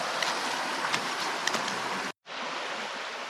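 A creek on Vancouver Island rushes in a steady, broad wash of flowing water. It cuts out for a moment, then carries on at the same level.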